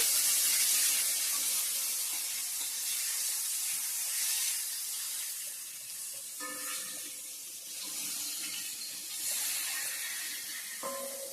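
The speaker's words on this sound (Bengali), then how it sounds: "আর এদিকে বেগুন ভাজা বসিয়ে দিচ্ছি" Steady, hissing sizzle of eggplant frying in hot oil, continuous throughout, with a few light clinks of a utensil partway through and near the end.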